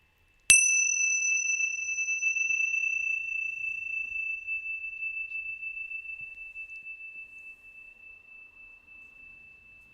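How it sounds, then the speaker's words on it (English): A meditation bell is struck once, a clear bright tone that rings on alone, slowly fading over about ten seconds in near silence. "on the sound of the bell"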